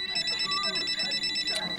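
A mobile phone rings with a continuous electronic ringtone of repeating high-pitched tones, steady and fairly close, with faint voices beneath it.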